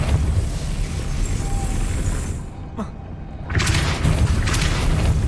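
Depulso force spell cast in the Hogwarts Legacy video game, heard as a sharp whooshing burst that cuts through steady rumbling game ambience, followed by a loud surge of noise.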